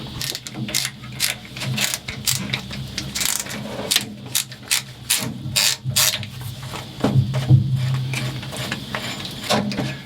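Ratchet undoing the propeller shaft flange bolts on a boat, rapid rhythmic clicking in repeated bursts, close and fairly loud, with metallic clanks between strokes.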